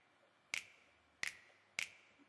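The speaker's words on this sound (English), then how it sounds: "Then I went on and I did a snap" Three crisp finger snap samples in a beat, evenly spaced and fairly quiet, with near silence between them.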